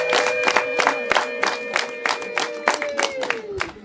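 Rhythmic, fairly loud applause from a small family gathering on a home visit, steady clapping with a voice or tone running underneath throughout.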